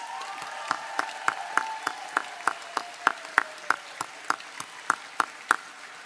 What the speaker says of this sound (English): So give yourself a big cheer